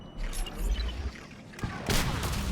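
A grenade goes off in the Mass Effect video game, a short sharp blast near the end that follows a low rumbling stretch of combat noise.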